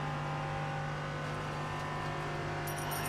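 A Ligier JS P320 LMP3 race car engine in the iRacing video game drones at a steady, sustained pitch, loud and continuous, with a faint high chirp near the end.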